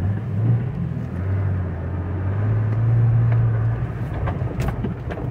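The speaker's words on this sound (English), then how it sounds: "And we're going to go and drive it." A 2006 Jeep Wrangler X 4x4 driving, its low steady engine rumble droning close by with road noise, swelling slightly midway and easing toward the end, no voices.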